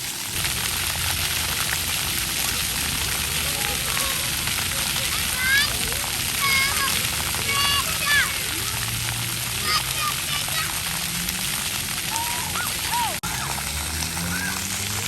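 Water play at a free public splash pad in a Florida park, with continuous spraying and splashing water, children's voices in the background and high squeals throughout.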